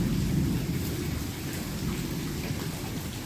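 Heavy rain pours down on a farm during a severe thunderstorm. A steady, dense hiss of falling water sits over a deep, continuous rumble of thunder.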